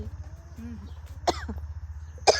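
Two sharp, harsh coughs close by from chili fumes, about a second apart, over a low steady hum.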